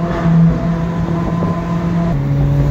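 A Ferrari 458 or 360 engine in race mode, second gear, holding a steady drone that shifts pitch slightly partway through, close and continuous without voices.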